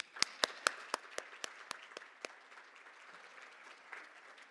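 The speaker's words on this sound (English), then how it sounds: "give another applause for our 3 winners" Scattered applause from an audience at an academic medical conference award presentation: a few loud, crisp claps up front that thin out into sparse, fading clapping.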